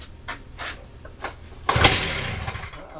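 A STIHL TS360 gas chop saw is pulled over a few times with short bursts, then fires and catches, settling into a loud, steady running engine close by.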